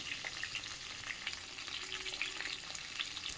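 Mixed vegetables for Bengali dudh shukto fry in a pan as they are stirred, giving a dense, steady sizzle with soft scraping throughout, close and unbroken, with no voices.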